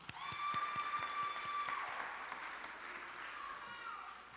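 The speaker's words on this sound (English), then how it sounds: "let's give them a round of applause." Applause for honor society inductees at a junior honor society induction ceremony, a steady crowd clapping that fades gradually, with a faint tone and voice at the start.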